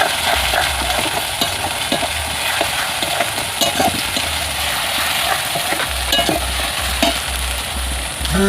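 Native chicken sautéed in a pan with garlic, a loud steady sizzle over continuous stirring and scraping, with a low hum running underneath throughout.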